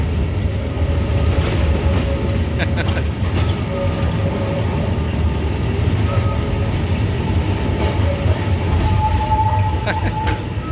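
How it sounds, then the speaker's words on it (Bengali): A Kolkata tram rolls into its depot at Shyambazar, giving a loud, steady rumble of wheels on rails with brief metallic tones, while voices talk nearby. "ব্যাস এই যে ট্রাম ঢুকে পড়ছে"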